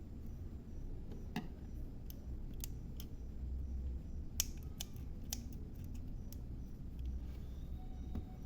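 Scissors snip crochet thread in a quiet room, a series of sharp, separate small clicks spaced irregularly over a faint background hum.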